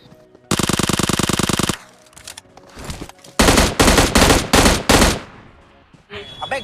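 Automatic gunfire from PUBG Mobile gameplay rattles in a long loud burst, followed by several heavy separate volleys of shots, close and dominant, with some quieter noise between them.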